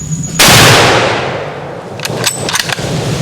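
A single loud, close gunshot cracks during a forest hunt in Cameroon with Baka hunters, then a long ringing decay follows and a few smaller clicks and knocks come after.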